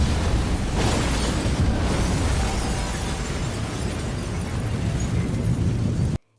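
A massive, sustained explosive blast roars loud and close with a dense, rumbling wash of noise that cuts off abruptly at the end, like the super powerful energy blast of the superhero Soldier Boy.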